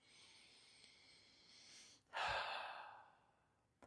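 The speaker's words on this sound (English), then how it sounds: "just take a breath with me" One deep breath taken during a breathing exercise, a single loud, close inhale-and-exhale with a rushing, airy quality, preceded by quiet room tone.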